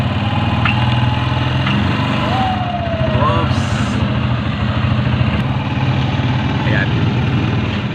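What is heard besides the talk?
motor engine running and idling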